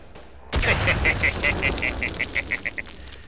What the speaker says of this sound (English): Yay for grenades